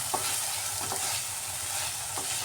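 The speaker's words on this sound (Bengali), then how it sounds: "গ্যাসের আঁচটা মিডিয়াম করে এইভাবে কষিয়ে নিতে হয়" Egg tikka masala gravy sautés over a medium gas flame as oil separates from the spices, giving a steady, even sizzle with faint intermittent stirring strokes.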